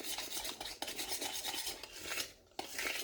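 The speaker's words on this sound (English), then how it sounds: "so I'm gonna pretty much just stir it" Pecan candy being stirred in a pot over low heat: a steady, continuous scraping and rasping of a spoon against the pot bottom, close and fairly loud, with a brief pause near the end and no talking.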